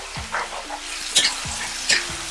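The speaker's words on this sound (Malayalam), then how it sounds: "ഉള്ളി ട്രാൻസ്പെറൻ്റ് ആവുന്നത് വരേക്കും വഴറ്റുക." Chopped large onions sauté in hot oil, a continuous close sizzle with several scraping stirs of a spatula against the pan, the louder scrapes spaced irregularly.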